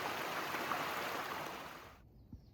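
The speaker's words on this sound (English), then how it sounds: "I love the sound of running water." A stream rushes steadily along a trail in bloom-season woods, a close, broad wash of running water that abruptly cuts out near the end, leaving near silence.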